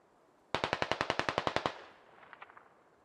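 A rapid burst of about twelve automatic gunshots in a military video game, loud and close, followed by a quieter, more distant short burst.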